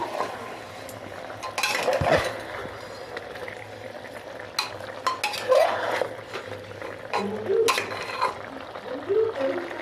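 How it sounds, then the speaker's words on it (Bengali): Mutton curry is stirred in a pot, giving a series of scraping, clinking spoon-on-metal sounds with intermittent rattles, at moderate loudness and close by, with no speech. "এবার আমি নেড়ে নিচ্ছি"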